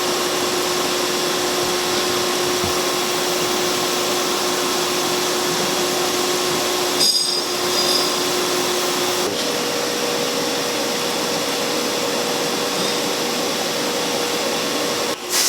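Grinding machine taking a pass on a Holset turbocharger shaft: a continuous loud hiss and whir, with a brief sharper scrape midway.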